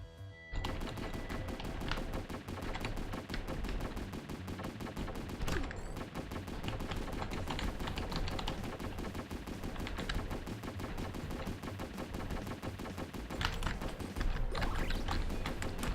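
Rapid, sustained machine gun fire from the space shooter Galaxy Champions TV, a dense continuous stream of shots running nearly the whole time at steady loudness, with brief dips and no talking.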